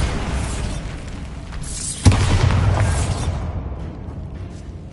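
A Bombarda explosion spell in Hogwarts Legacy detonates with a sharp, loud boom amid a constant game rumble, the blast's crackling tail lingering for about a second before fading.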